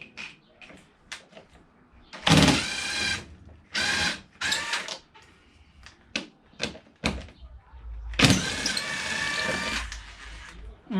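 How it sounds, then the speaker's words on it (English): An impact driver works on the 10mm number plate bolts of a Toyota Celica, giving several short loud rattling hammer bursts separated by pauses, with smaller clicks and handling noises in between. "So I've got my impact driver. These are 10mm, these bolts"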